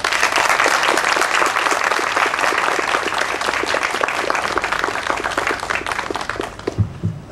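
A large audience applauds a general's remarks at a university veterans center dedication ceremony, with dense, steady clapping throughout that thins slightly and tails off at the very end.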